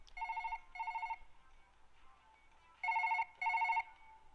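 Telephone ringing in the Surgeon Simulator 2013 video game: four even electronic ring bursts in two pairs, the second pair louder, clear and close with no talking.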